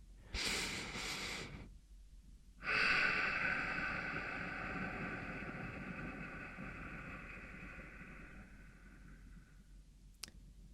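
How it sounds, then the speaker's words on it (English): Slow, deliberate breaths voiced aloud in close, quiet ASMR style: a short breathy burst, a pause, then a long sustained voiced exhale with a hum that fades, ending in a faint click. "vocalizing the breath as I just did"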